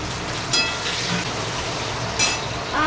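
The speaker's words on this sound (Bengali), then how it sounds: "আর এদিকে মাংসের আলুটা এই যে ভাজা বসিয়ে দিলাম।" Potatoes for a meat curry fry in a pan, giving a steady, close sizzle with a couple of brief sharper crackles, while heavy rain falls outside.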